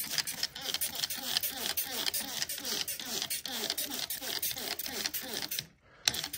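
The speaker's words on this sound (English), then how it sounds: "I'm gonna spray them down" Hand spray bottle misting water onto potted fig cuttings, a rapid series of short, repeated spritzing bursts that pause briefly near the end and then resume.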